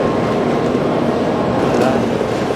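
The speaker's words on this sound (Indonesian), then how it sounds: "kereta ini ke Osaka ya" A Shinkansen N700 series bullet train bound for Osaka at Tokyo Station gives off a loud, steady broadband rumble and whoosh, with continuous station noise throughout.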